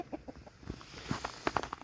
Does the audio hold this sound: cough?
no